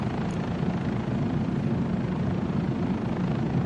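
Steady, loud rotor and turbine drone of a Bell 407 helicopter in the flight simulator MSFS 2024, a continuous broadband whir holding level throughout with no talk over it.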